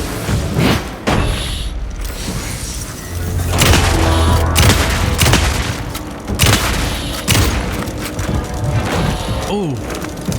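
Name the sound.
shotgun fire in video game Alan Wake 2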